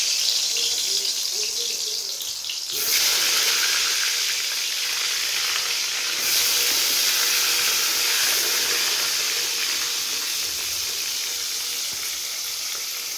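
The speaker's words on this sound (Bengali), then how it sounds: "তেলটা গরম হয়ে গেছে, এবার বেগুনগুলো আমি ভেজে নিব।" Eggplant pieces fry in hot oil in a wok over a gas flame, a loud, steady hiss and crackle that jumps sharply louder a few seconds in and then sizzles on continuously with no talking.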